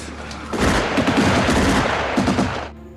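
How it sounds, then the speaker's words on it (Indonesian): Bursts of rapid gunfire rattle loudly in a Stalingrad war battle scene, a dense volley lasting a couple of seconds before trailing off. "salah satu prajurit Jerman yang bernama Müller menembak ke arah persembunyian musuh."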